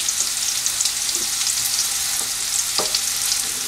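Chopped red onions with seeds sautéing in a pan for Chettinad chicken varuval, a loud, continuous crackling sizzle with occasional spatula scrapes and no voices.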